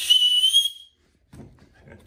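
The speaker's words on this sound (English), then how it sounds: "it's got a whistle lock buckle" A sharp, high-pitched whistle built into a pannier's buckle is blown once for under a second, followed by faint handling noises.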